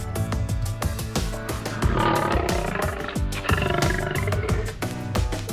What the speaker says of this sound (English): The male lion.